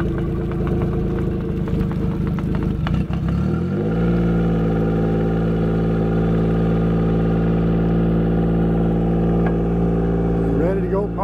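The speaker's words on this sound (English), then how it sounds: "You got a 50 horsepower Johnson outboard." A 50 horsepower Johnson outboard boat motor runs close by, a steady low droning hum that settles into an even idle after a brief rise.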